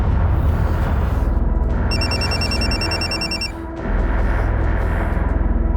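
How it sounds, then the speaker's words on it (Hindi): A telephone rings with a call from the sister, a bright electronic ringtone trilling for about two seconds over a dense, loud background of dramatic music. "दीदी का फोन आ रहा है।"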